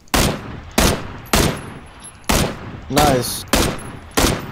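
Repeated loud gunshots from PUBG players targeting an enemy on an apartment rooftop, about seven sharp evenly spaced reports with short decaying tails, one voice briefly speaking between them.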